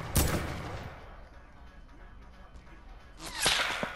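Sniper gunfire in a shooter video game: a sharp, loud crack at the start, then quieter ambient noise, then a second cracking shot with trailing echoes near the end.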